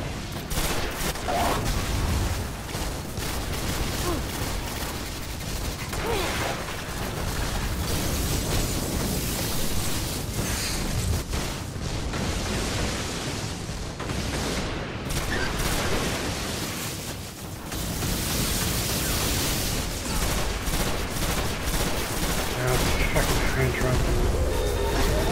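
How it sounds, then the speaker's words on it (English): Cannon fire in the video game Destiny, a dense barrage of booming shots and blasts rolling on almost without a break for about twenty-five seconds, loud and close, with a player talking over the gunfire. "Cannon coming."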